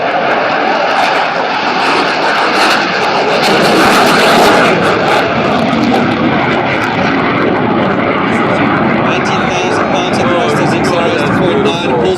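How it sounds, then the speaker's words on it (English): A Saab Gripen fighter jet with a Volvo RM12 engine roars during a flight demonstration, a loud continuous broadband jet rumble that swells briefly mid-way and holds steady throughout, with no voices. "sound of the engine. RM120 Volvo engine."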